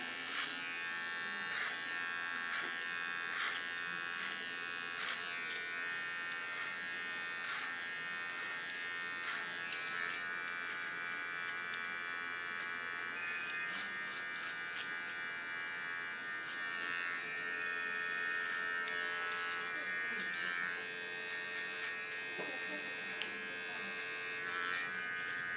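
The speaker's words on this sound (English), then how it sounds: "With a small comb and a small clipper," Small electric hair clipper buzzing steadily while cleaning the contour of an undercut, a continuous thin hum with faint shifts as it moves along the hairline, fairly quiet and close.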